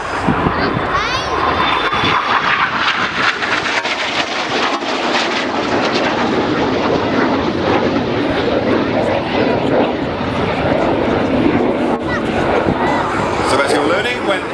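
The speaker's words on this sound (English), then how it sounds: "Red 1 is pitching up with red smoke on to barrel roll around the wings of the formation" Red Arrows jets fly a display pass at the Leuchars Airshow in 2011, a loud continuous roar that rolls on through the whole stretch while an announcer commentates over it.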